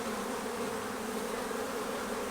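Dense, steady drone of many honey bees swarming at an open hive during a frame inspection, loud and continuous with no voices, the hum even throughout.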